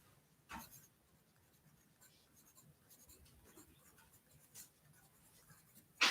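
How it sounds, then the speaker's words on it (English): A pen or pencil writes a number by hand, soft faint scratching strokes close by, with a few sharper taps and a louder knock at the end, and a voice briefly speaking. "let's write that down"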